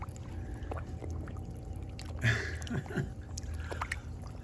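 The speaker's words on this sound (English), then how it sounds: "these are koi, and as soon as you approach, they're jumping out of the water wanting some food" Koi in a garden pond splash and slurp at the water surface for food, a burst of sloshing and gurgling midway over a steady outdoor hum with brief soft splashes after.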